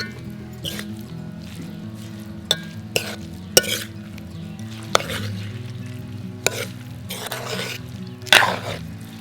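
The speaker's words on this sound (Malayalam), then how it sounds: "രണ്ടും കൂടെ നല്ലതുപോലെ ഇളക്കി യോജിപ്പിക്കും" Banana stem stir-fry mixed with cooked beans being stirred in a pan, a steady soft sizzle under scattered clinks and scrapes of a spoon against the pan.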